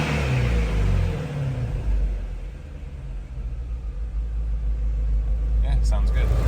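The supercharger on a Shelby GT350 engine rumbles and drones loudly close by, with a steady low roar and a brief rev near the end.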